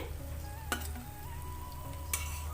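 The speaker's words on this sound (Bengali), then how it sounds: "আমি বিস্কুটটা সুন্দর করে ভেজে নিয়েছি" Continuous sizzling of semolina biscuits frying in hot oil with a low hum underneath and two brief clicks.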